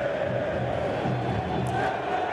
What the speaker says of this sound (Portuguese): Aí a torcida do Atlético fazendo barulho na Arena MRV.